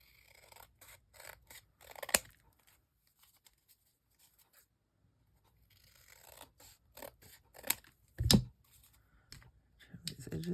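Scissors snip and trim paper edges in a quiet indoor craft setting, with scattered bursts of cutting and a couple of louder crisp snips standing out against near silence.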